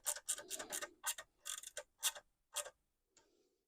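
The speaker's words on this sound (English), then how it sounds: "As you can hear, there's a little ratchet one." A small ratchet tool clicks in a handful of short, crisp bursts of ticking, close and fairly quiet, with a faint final click after a pause.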